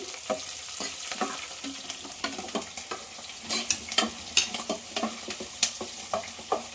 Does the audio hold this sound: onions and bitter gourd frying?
yes